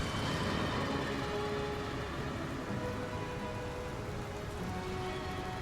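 Heavy rain pours steadily during a stormy night in a fantasy role-playing game, a dense, even hiss close by with no pauses or voices throughout.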